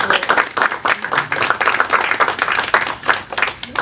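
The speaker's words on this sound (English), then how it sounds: "give a round of applause to the Marine Corps League" An audience at a fall lecture on Vietnam claps steadily for the Marine Corps League, a dense run of many hands close by that holds even for nearly four seconds with no talking over it.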